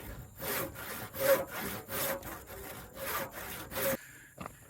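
A hand saw cuts a kerf into wood during a well house build, about seven rhythmic back-and-forth rasping strokes, close and clear, that stop near the end, followed by a faint knock.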